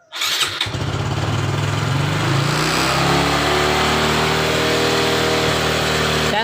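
A Suzuki Suprax 125 motorbike from 2018 with a fault that makes it stall while riding fires up and idles, then revs loud and close with a steady rising and falling drone. No one speaks.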